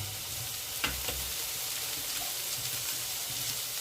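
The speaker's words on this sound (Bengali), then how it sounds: "1 চামচ সর্ষের তেল দিয়ে দিলাম আদা রসুনটা ভালো করে ভেজে নেওয়ার জন্য" Steady, close sizzling of ginger garlic paste frying in hot mustard oil, with a couple of brief stirring knocks early on and no voices.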